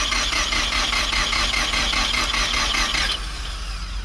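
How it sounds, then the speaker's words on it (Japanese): A Mazda RX-7 rotary engine cranks steadily on its starter during a compression test, a loud continuous whirring churn with even pulsing that stops abruptly near the end, leaving a quieter hum. "ではセルを回していきます。"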